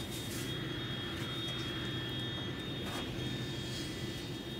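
Steady, loud drone of an airplane in flight heard from inside the cabin, a continuous engine rumble with a faint high whine, and no talking.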